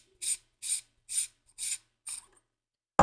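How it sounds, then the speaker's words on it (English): Lightsaber chassis part being unscrewed by hand, five short dry scraping turns in a steady rhythm, close and clear, ending with a sharp knock. "We'll unscrew this guy by turning it to the right."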